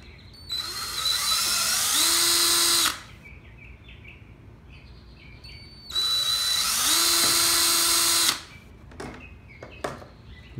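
A power drill with a 7/32 bit bores holes for zip ties in a DIY kayak crate, two loud sustained whining bursts of about two and a half seconds each, with a quieter pause and faint clicks between.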